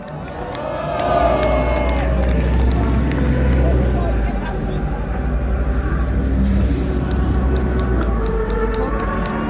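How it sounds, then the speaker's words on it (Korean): A large outdoor crowd at a political rally in Gwanghwamun cheers and claps loudly and steadily, with shouting voices and a low rumble of traffic or machinery underneath. "모두 박수를 한번 부탁드리겠습니다."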